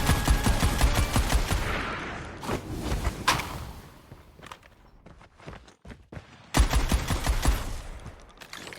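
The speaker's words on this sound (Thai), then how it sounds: "นี่ไงคนยิงมาเห็นไหม" Bursts of gunfire in a Call of Duty Mobile battle royale match, dense rapid shots and thuds in the opening seconds, a quieter stretch of scattered single shots, then heavy firing returning near the end.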